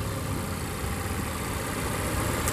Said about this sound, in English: it does have Volvo's 2-liter turbo and supercharged or twin-charged engine, making just over 300 horsepower.